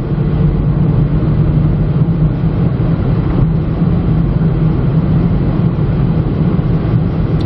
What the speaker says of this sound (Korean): 지금 엔진 소음은 그렇게까지 큰 편은 아닌데 노면 소음이 굉장히 커요.